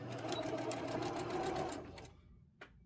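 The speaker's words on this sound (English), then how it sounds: "I'll see how much longer it takes me on sewing this stack of blocks together" A sewing machine runs steadily stitching a stack of quilt blocks together, a close, even whirring hum that stops abruptly near the end, followed by a single faint click.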